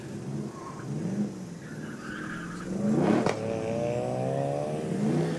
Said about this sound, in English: we can hear some rotary drift action.